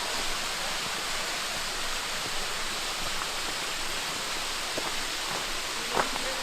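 A waterfall at Raccoon Creek State Park on the Mineral Springs Loop Trail gives a steady, dense roar of rushing water, close and constant throughout, with faint splashes mixed in.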